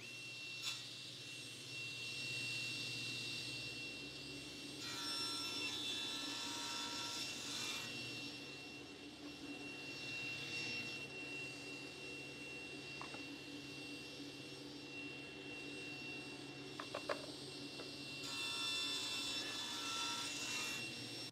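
A power tool cuts chamfers along the edges of a wooden grain cutting board, giving a steady high whine with rubbing wood noise in several passes separated by brief pauses.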